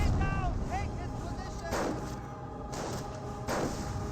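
Gunfire and explosive thuds aimed at a Staghound armoured car in a Company of Heroes 1 battle: several heavy booming impacts land about a second apart, mixed with a game soundtrack and unit voices.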